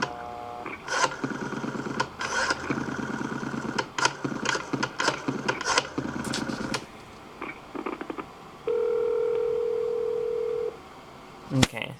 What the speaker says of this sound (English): now we have a postpay dial tone, or a postpay line